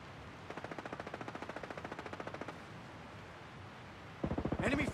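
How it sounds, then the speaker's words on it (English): Enemy automatic gunfire in the military shooter Ghost Recon Breakpoint: a rapid, steady stream of shots at moderate distance, then a louder close burst at the end. "Hostiles are shooting"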